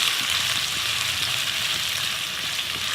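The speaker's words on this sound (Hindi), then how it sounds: "प्याज हमने इसमें डालना है, ऑमलेट कटिंग प्याज है, इसको थोड़ा सा सौते करना है" Chopped onion sautéing in oil preheated in a pan over medium heat, giving a steady, loud, close sizzle that stays even throughout with no voices over it.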